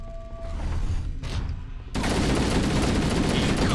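Auto rifle fire in a video game, starting after a quieter stretch as a dense, continuous burst of rapid shots that stays loud to the end.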